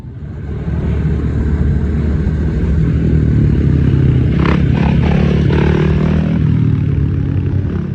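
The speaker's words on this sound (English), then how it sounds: "Give a little rev, just a little one." Honda Grom mini bike at a small-bore motorcycle event, engine droning loud and steady throughout with a brief throttle blip midway, amid outdoor crowd clatter.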